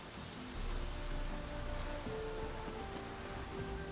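Steady rainfall in the video game The Witcher 3, an even, dense patter on surfaces with faint tonal background sounds, no talking.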